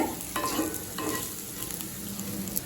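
Elephant foot yam slices roast in a pan with a constant close sizzle and a few soft stirring scrapes, no voices.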